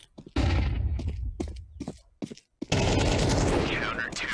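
A flashbang grenade goes off in Counter-Strike 2, a loud sharp burst after a stretch of choppy, broken-up sound, followed by a dense sustained ringing blast that fills the rest of the moment.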